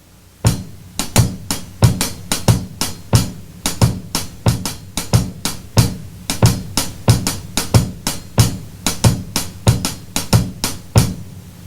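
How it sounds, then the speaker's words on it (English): Dom Famularo's left hand plays a hi-hat in a steady, repeating rhythm of crisp, close strikes, with evenly recurring accents and no talking over it. "My left hand on hi-hat has this."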